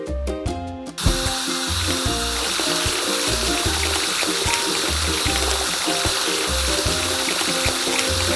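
Water spraying hard to wash down a construction vehicle, a loud, steady hiss that starts abruptly and keeps going under a light melodic tune.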